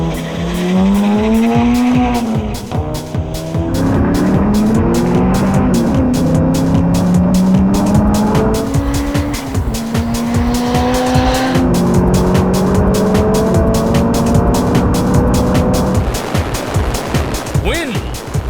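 A turbocharged Honda CRX races a Ford V8 car, engines revving loudly through repeated upshifts with a rapid popping exhaust rattle, close and continuous throughout.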